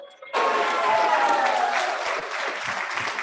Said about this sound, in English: Let us rise and give a big round of applause to Heavenly Parent.